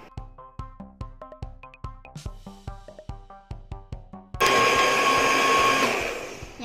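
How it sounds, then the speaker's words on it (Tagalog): Music with plucked rhythmic notes plays, then a blender starts up loudly, mixing homemade cookies and cream ice cream with a steady close motor whir that runs to the end. "Saka i-blend ulit natin ng 2 minutes."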